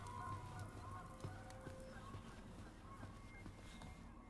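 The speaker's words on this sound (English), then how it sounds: "The hell's going on with those geese?" Geese honk repeatedly in the video game Tell Me Why, a scattered flock of nasal calls at moderate distance over faint ambient background, with no talking.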